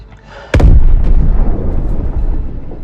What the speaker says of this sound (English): it blew up my ship